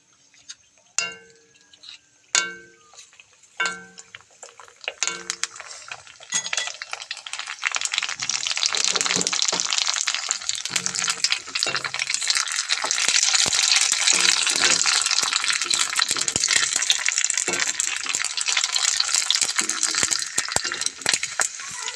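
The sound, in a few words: fuchka (puri shells) frying in hot refined oil in a wok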